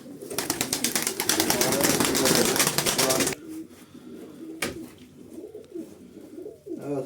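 Pigeons coo and rustle in a loft, with a burst of dense fluttering wings for the first few seconds, then quieter soft cooing and a few faint knocks nearby.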